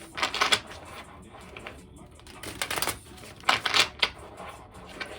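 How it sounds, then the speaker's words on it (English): Tarot cards riffle and shuffle in quick bursts separated by brief pauses, close and crisp, with no voices. "I'll shuffle a little bit more"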